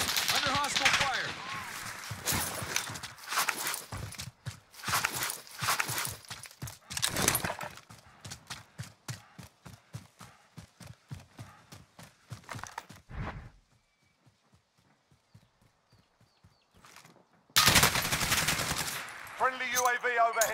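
Rapid automatic gunfire in a Call of Duty Warzone match, dense bursts of close shots repeating through most of the stretch, a brief quiet lull, then loud firing resumes, with voices talking over it.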